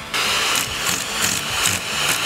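A vacuum cleaner runs loud and close beside a Russian cat, a steady motor roar with rhythmic pulsing bursts and no voices.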